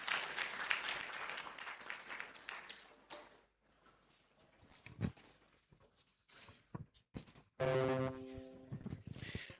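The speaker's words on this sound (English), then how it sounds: "Please, a round of applause for that," Audience applause at a matriculation ceremony for an aviation academy, a burst of clapping early on that fades, with scattered noise and a loud tonal hum entering near the end.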